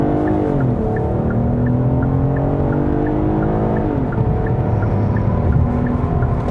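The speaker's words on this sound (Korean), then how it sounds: "스포츠 모드에 두고 일단 급가속부터 한번 해보도록 하겠습니다" A front-wheel-drive Kia K8 3.5 in sport mode launches under hard acceleration, its engine revving loudly and climbing through gears with stepped shifts, the up-close roar sustained and dominant throughout with no talking.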